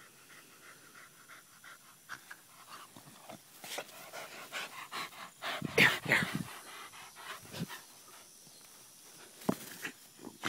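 A dog pants in quick, breathy bursts outdoors near a field, with footsteps and rustling mixed in and a brief spoken word; the panting is close but fairly quiet.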